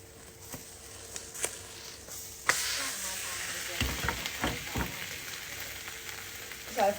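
An omelette fries in hot oil with a steady crackling sizzle, marked by several sharp utensil knocks and stirring scrapes up close.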